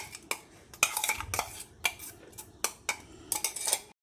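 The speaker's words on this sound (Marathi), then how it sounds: "आता हे यात घालून घ्यायचं पूर्ण सर्व मिक्स करायची" A spoon scrapes and taps against a pan as ground chutney is stirred into a hot tadka, giving a quick, irregular series of sharp metallic clinks, close and clear.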